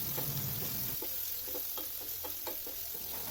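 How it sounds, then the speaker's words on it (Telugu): Green chillies, curry leaves and chopped onion frying in a pan for bottle gourd fry, giving a steady close sizzle with a few soft stirring clicks, no voices. "3 పచ్చిమిర్చి, ఒక రెబ్బ కరివేపాకు, అలాగే ఒక పెద్ద సైజు ఉల్లిపాయను తీసుకొని ఈ విధంగా చిన్న చిన్న ముక్కలుగా కట్ చేసుకొని అవి కూడా ఇందులో వేసి మొత్తం ఫ్రై చేసుకోవాలి"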